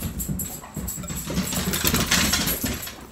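An excited dog runs back and forth through a house, its paws scrabbling and thudding on the floor with a steady jingle, the scurrying busy and close throughout.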